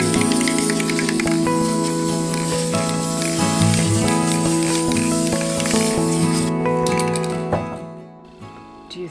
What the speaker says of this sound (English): Finish them off with a clear coat of varnish.